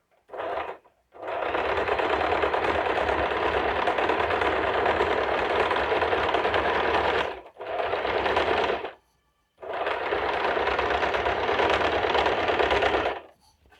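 A sewing machine stitching gown fabric, running in long steady whirring bursts with brief pauses between, close and loud with no speech.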